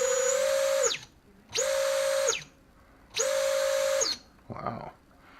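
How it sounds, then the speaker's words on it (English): Brushless drone motors on 1stPower DAL265 ESCs spin up together in three loud, sustained whining bursts with steady pitch and falling tails, then a shorter, rougher fourth burst. "And now let's just run them all up once together."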